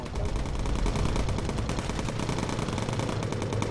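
Bomber gunners' machine guns fire in the video game Bomber Crew, a loud, continuous rapid rattle of gunfire that holds steady for several seconds.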